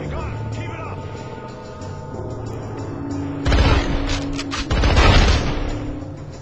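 Rifle gunfire in the video game SpyHunter: Nowhere To Run, with loud bursts of shots in two clusters over a steady game background of music and ambience.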